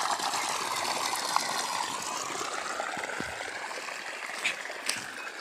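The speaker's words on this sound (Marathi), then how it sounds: "आणि आता पहा मी शेंगात पोचले आणि इथं असं पाणी चालू आहे।" Irrigation water runs steadily through a farm field of pod crops, a continuous rushing hiss with no voices.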